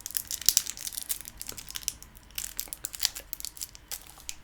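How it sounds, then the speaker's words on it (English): Tight shrink wrap plastic crinkles and crackles in quick, irregular bursts as it is pulled and peeled up close from a tarot card deck. "Why is it wrapped? It's like it's shrink wrapped. It's so tight."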